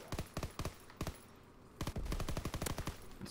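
Video game gunfire from a heavy-recoil gun: short bursts of sharp automatic shots, then a pause, then a longer rapid volley, loud and close with no talk.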